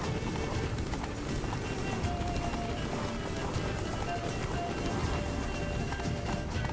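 Roach, Geralt's horse in The Witcher 3, trots with a steady clip-clop of hooves, close and continuous, over a dense ambient game soundscape with a brief voice underneath.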